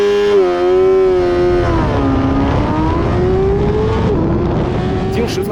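A CFMOTO 500SR inline-four motorcycle accelerates hard from standstill in a 0-100 km/h test, its engine note rising in pitch through the gears, loud and close with a brief drop at each shift.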